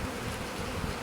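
A captured bee swarm on an agricultural trailer drawbar buzzes in a dense, continuous hum, close and moderately loud, with no other sounds.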